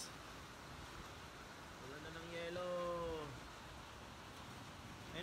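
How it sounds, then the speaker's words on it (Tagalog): Hail falling during a hailstorm in Al Dayer, Saudi Arabia, a faint, continuous patter like heavy rain that holds steady throughout, while a voice talks briefly in the middle. "Ayun na, mula na ng yelo."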